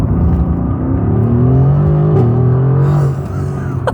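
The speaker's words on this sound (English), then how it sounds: "setting off in the 2018 AMG GTR. Let's hit it." A 2018 Mercedes-AMG GT R pulling away under hard acceleration, a loud, steady engine roar rising in pitch through the gear, heard close from the cabin with no talk.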